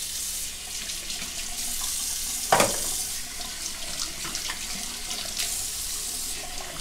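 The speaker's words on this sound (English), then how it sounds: "Saturate the face cloth under the hot water." Hot water running from a bathroom tap while a face cloth is soaked for shaving, a steady close stream with a brief splash partway through.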